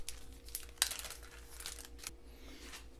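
Plastic bags holding date plum persimmon seeds in cold stratification being opened, faint close crinkling and rustling with one sharper crackle, no voices.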